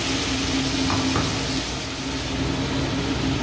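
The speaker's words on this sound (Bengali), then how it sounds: "মশলার বাটি দিয়ে দেবো একটু জল" Water splashes into spice paste frying in a pan for a Bengali katla fish curry, bringing a steady, fairly loud sizzle and bubbling that holds evenly throughout, with no talking.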